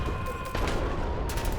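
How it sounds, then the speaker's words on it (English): Gunfire in the game Love and Deepspace, a dense, loud rattle of rapid shots over constant background rumble, continuous through the short stretch. "as I step outside, gunshot screams and maniacal laughter fill my ears once more"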